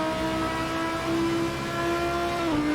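A GT3 race car engine howls at high revs, pulling steadily through a gear before a brief pitch drop at a shift, loud and close from onboard with no talking.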